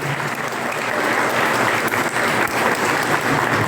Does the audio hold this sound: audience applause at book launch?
yes